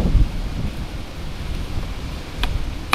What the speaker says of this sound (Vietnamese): Bữa nay sao gió quá trời gió.